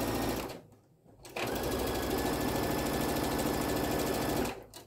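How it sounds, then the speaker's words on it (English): A sewing machine stitching the center seam of a fabric welding cap, a loud rapid mechanical whirr that stops briefly, restarts and runs steadily before cutting off. "So now the center seam is stitched flat."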